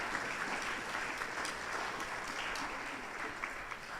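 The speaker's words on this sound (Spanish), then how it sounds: "Dele palmas al Señor." A church congregation claps during a Spanish-language service, steady moderate clapping from a group at a distance, fairly quiet.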